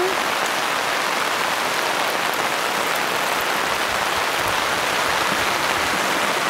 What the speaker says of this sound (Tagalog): Guys, sobrang lakas na ng ulan.